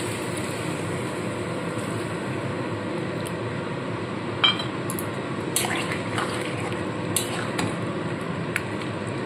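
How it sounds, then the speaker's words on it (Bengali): A little water is poured into a pot of cooked potatoes and softened green tomatoes, a steady close trickle with a few small clinks of utensils and no talk. "দিয়ে দিচ্ছি অল্প করে জল।"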